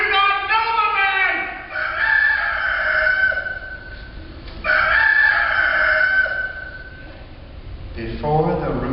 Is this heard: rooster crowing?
yes